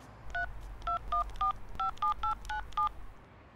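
A mobile phone number is keyed in as a quick run of about ten short touch-tone beeps in uneven rhythm, clear and close against a low background hum.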